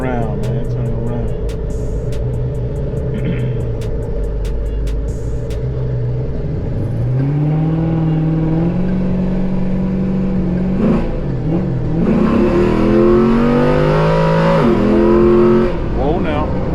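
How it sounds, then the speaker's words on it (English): A 2018 Chevrolet Camaro LT engine revs repeatedly, its pitch climbing and falling in surges over a steady idle-like drone, loud and close, with people talking over it. "that LT power, man. Straight out the Camaro, baby."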